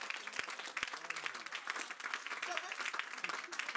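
Congregation applauding the Lord during a church service, steady moderate clapping from a crowd with some voices mixed in, fairly distant.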